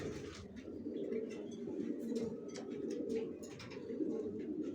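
Johnson racer pigeons, a breeding pair of cock and hen, coo steadily in low, overlapping rumbles, close by and continuous, with faint chirps above.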